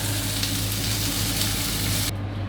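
Meat searing in a hot pan, a steady loud close sizzle and crackle with a low background hum, continuing unbroken for a couple of seconds with no talking.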